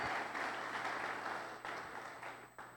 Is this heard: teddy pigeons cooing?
no